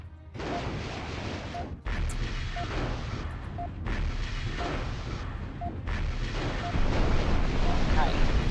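Airstrike explosions in the MechCommander video game form a continuous, heavy rumbling barrage with dense booming blasts, loud and close, and the roar swells louder toward the end.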